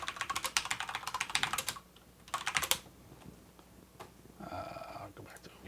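Rapid clicking keystrokes on a computer keyboard in two quick bursts, close and crisp, followed by quieter pauses and a short stretch of talking.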